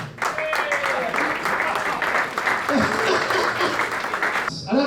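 Crowd applause at a golf day awards ceremony, a dense, steady wash of clapping lasting throughout with faint voices mixed in beneath it.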